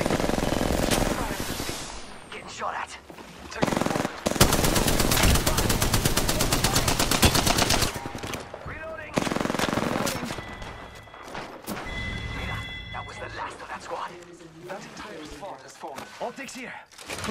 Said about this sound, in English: Taking fire! I'm taking fire.